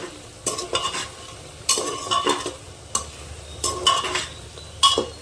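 Spices are stir-fried in a pan for an egg and potato curry, a soft sizzle broken by regular scraping strokes and clinks of a spatula against the pan, roughly one stroke per second, close and with no talking.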